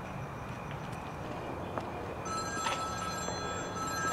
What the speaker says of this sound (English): Don't pick up that phone.